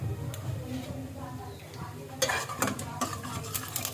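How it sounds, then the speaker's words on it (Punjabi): Cumin seeds lightly roasting in a pan, a soft sizzle under spoken voice, then sharper stirring scrapes and clinks of a utensil against the metal pan in the second half. "ਇਸ ਦੇ ਵਿੱਚ ਆਪਾਂ ਪਾਵਾਂਗੇ ਹੁਣ ਥੋੜਾ ਜਿਹਾ ਜੀਰਾ ਇਸਨੂੰ ਹਲਕਾ ਜਿਹਾ ਭੁੰਨ ਲੈਣਾ ਹੈ"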